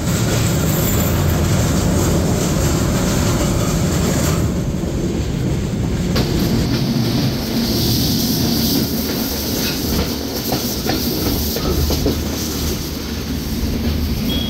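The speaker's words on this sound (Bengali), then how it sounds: "ট্রেনটি এখন পার হয়ে যাচ্ছে নবগঙ্গা ক্যানেলের ওপর নির্মিত রেল লাইনের লাল ব্রিজের ওপর দিয়ে" The Shagardari Express crosses a red railway bridge over the Nabaganga canal near Alamdanga, a loud continuous roar and rattle of wheels on the steel span with a hissing upper edge that shifts partway through.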